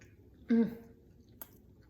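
A single close, soft crunchy bite into a vegan pizzoccheri mouthful with a crisp sage leaf, cabbage and potato, a brief squishy chew followed by a small click, then quiet.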